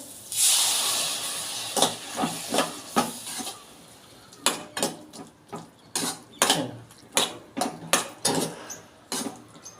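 Pressure-cooked kabuli chickpeas tipped into sizzling masala in a pan, a loud hiss and steamy sizzle bursting up, followed by a run of sharp clanks and scrapes of a spoon against the metal pan, close and without talk.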